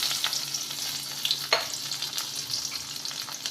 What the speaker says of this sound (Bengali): এরপর দেব ফোড়নে দেখো রসুন বেশ কিছু রসুন আমি কুচিয়ে নিয়েছি আর গোটা জিরে আর শুকনো লঙ্কা এটাকে আমি ফোড়ন দিয়ে দেবো